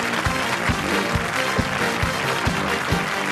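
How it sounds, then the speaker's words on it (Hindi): A studio audience at a Hindi comedy show claps and cheers for a contestant, a dense steady wash of applause with a few sharper low thumps spaced through it, loud and continuous with no speech. "राजीव के लिए जोरदार तालियां"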